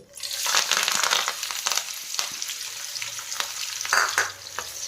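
Onions and green chillies hit hot oil in a pan for a brinjal and green peas gravy, a bright crackling sizzle up close with scraping and stirring clatter throughout.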